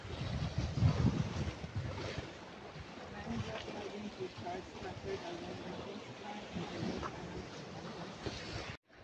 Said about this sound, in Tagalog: Lakas yung hangin guys.